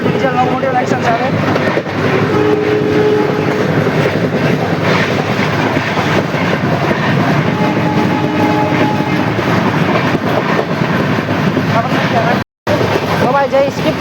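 Bandra–Veraval train 19203, hauled by a WDP4B diesel locomotive between Jetalsar and Junagadh, rolls along in a steady, loud rumble with rail clatter and faint tonal whines, briefly cutting out near the end.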